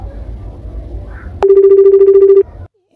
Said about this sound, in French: Téléphone, il sonne.